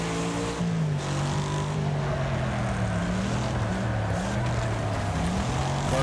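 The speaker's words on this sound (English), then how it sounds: "Car does not want to turn." Car engine in the Wreckfest online racing game: a loud, steady droning motor whose pitch rises and falls as the car accelerates and slows, with no speech.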